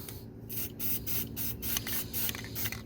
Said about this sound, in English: Just give a little bit of spray and let them dry this way.